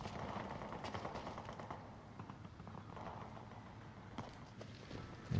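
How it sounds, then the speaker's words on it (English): Footsteps in a first-person shooter video game, a quiet run of rapid steps at a steady rhythm, faint and a little distant, with no talk over them. "Yo, I heard footsteps."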